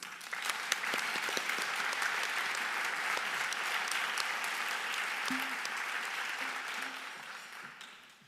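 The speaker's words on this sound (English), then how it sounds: "I'd like to ask Dr. Desilets to stand up for his round of applause." An audience at an awards presentation claps steadily for several seconds, a dense even wash of applause that fades gradually at the end, with a brief voice heard near the close.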